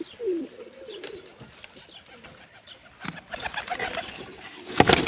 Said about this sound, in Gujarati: જંગલી કબૂતર બેઠું છે નર બેઠો